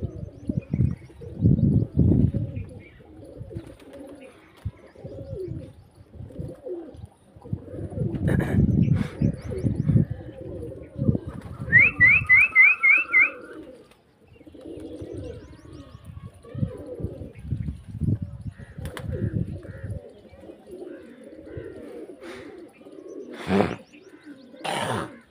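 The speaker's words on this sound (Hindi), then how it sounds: "गाइस ये हमारे कबूतर उड़ रहे हैं, ये दूसरे नहीं उड़ रहे हैं।" Pet pigeons flying overhead with soft cooing and a few brief chirps, heard over outdoor background noise and bursts of handling or wind rumble, with a person talking at times.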